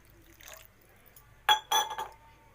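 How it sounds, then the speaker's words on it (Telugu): Water is poured into a pan of egg curry during home cooking, giving two short splashing bursts with a faint clink near the end of a quiet kitchen moment. "ఇప్పుడు కొంచెం వాటర్ వేసుకుందాం దీంట్లో."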